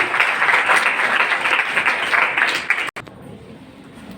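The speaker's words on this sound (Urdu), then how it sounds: "بھرپور تالیوں میں استقبال کیجیے گا" Audience at a women's college Quaid Day 2023 ceremony in New Karachi applauding to welcome first-year students: dense sustained clapping that cuts off abruptly near the end, leaving quieter room tone.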